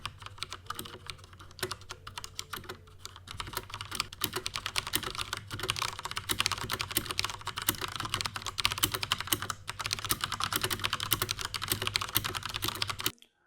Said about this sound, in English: Here's a typing test for those who are interested.